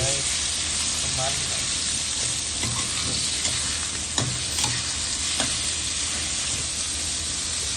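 Thinly sliced pork stir-fried in a hot pan for yellow noodle stir-fry, a loud continuous close sizzle with scattered clicks of the utensil against the pan.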